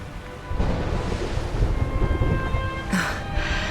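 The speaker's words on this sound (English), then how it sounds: "Would you look at it thundering away out there?" A rolling rumble of thunder over steady rain in the video game Dragon Quest XI, a broad low roar that swells and persists with a brighter crack near the end, no voices.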